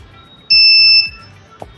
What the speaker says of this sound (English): after that a beep will appear